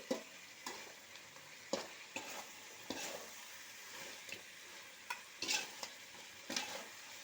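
Chicken curry pieces frying in oil with a soft, continuous sizzle, broken by occasional stirring scrapes and clinks, heard fairly faint and close, with no voices.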